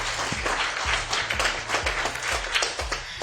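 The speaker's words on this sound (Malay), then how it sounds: "Berikan tepukan yang paling gemuruh tuan-tuan dan puan-puan." Applause from the audience at a tourism promotion launch event, a steady wash of clapping with periodic low thumps running underneath for several seconds.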